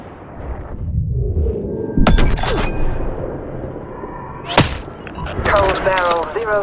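A Hitman: Sniper rifle shot cracks sharply near the two-second mark, followed by a second sharp report later, set against a low game ambience with a radio-style voice talking.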